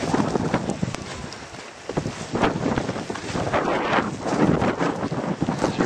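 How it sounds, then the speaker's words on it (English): Strong wind buffets the microphone in loud, gusty rushes that rise and fall throughout, outdoors in snow on a lane to a farm, with no one speaking. "It's really windy"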